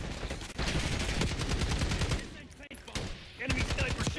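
Rapid gunfire from an enemy sniper in the Black Ops 6 video game, dense cracking bursts that stop briefly, then resume, with a voice speaking over parts of it.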